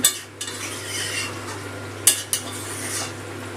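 Spiced chicken curry being stirred in a pot, a metal spoon scraping and clinking against the sides in a few sharp taps over a quiet low hum, no talk.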